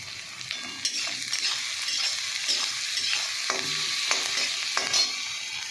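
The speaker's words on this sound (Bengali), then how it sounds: "আদা রসুন দিয়ে দিলাম, পেঁয়াজ দিয়ে দিলাম, এটাকে ভালো করে ভেজে নেব।" Ginger, garlic and onion fry with paneer in a pan, giving a steady close sizzle throughout, with repeated scraping stirs and light clicks of a utensil against the pan.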